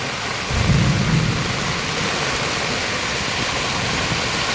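Heavy downpour with thunder in Montalban: a broad, constant roar of rain with a low rumble swelling briefly near the start, then steady loud rain alone.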